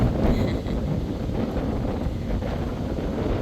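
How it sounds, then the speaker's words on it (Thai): Steady strong wind buffeting the microphone at a busy harbour with cargo boats, a continuous low roar without pause. "เห็นไหมลมลมแรงเนาะ"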